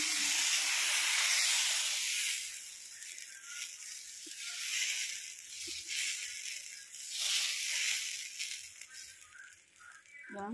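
Moong dal dosa batter hits a hot pan wiped with ghee, giving a loud, close hissing sizzle that swells and eases in waves, with a few light scrapes near the end.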